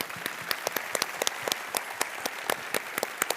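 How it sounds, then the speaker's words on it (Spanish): An audience applauds after a talk on Latin cooking and community with scattered, crisp claps at a moderate distance. The clapping is fairly thin and uneven, and no voices are heard over it. "Un fuerte aplauso."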